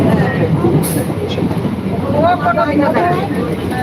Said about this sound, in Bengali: কোনোদিনই দাঁড়াবে না ওই ট্রেন।